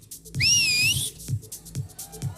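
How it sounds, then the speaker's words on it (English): A person whistles on request at a 2024 pickleball event in India: a loud, shrill whistle with a quick rising and falling pitch that lasts under a second, over a steady beat of low thumps. "Give us a whistle."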